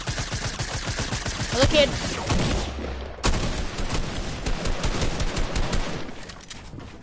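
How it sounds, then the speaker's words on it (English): Rapid SMG gunfire in a video game, dense continuous bursts of close shots with a brief pause, while players talk over it. "I'm just gonna spam my SMG at him."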